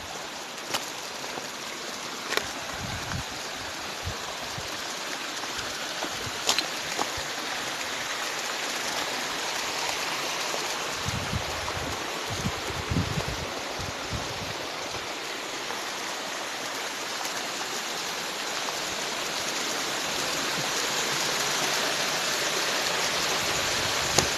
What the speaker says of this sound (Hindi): ये एक खूबसूरत मकाम जहाँ पर पानी कहीं ऊपर से आता है और यहाँ से नीचे गिर जाता है।